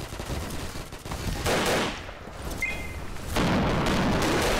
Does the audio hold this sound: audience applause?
no